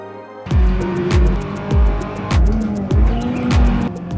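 Race cars in a driving simulator game squeal their tires in repeated bursts with engine roar, each squeal ending in a low thump, loud and close, with no talking.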